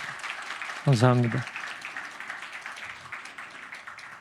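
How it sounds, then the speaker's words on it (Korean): A church congregation breaks into a steady wash of applause that continues under the pastor's amplified voice as he welcomes a member. "우리 박수로 환영하고 축복합니다."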